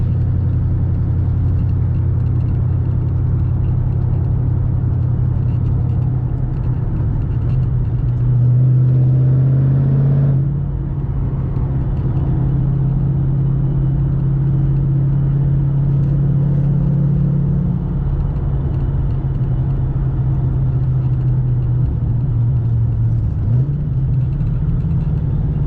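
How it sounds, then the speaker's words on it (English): Steady low rumble inside a car cruising in fifth gear with BBK longtube headers, windows up, the engine droning evenly with small shifts in pitch and no talking. "Right now we're cruising in 5th gear doing 45."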